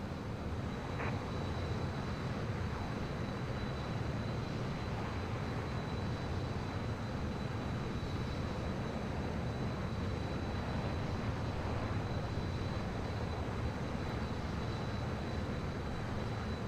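Steady, continuous drone of an airplane engine in Microsoft Flight Simulator, unchanging in loudness throughout, with no talking.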